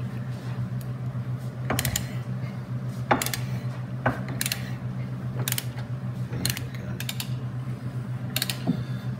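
A cheater wrench strains against Loctite-secured bolts on a Polaris Slingshot SLR rear body panel, giving sharp, irregularly spaced clicks and creaks over a constant low hum.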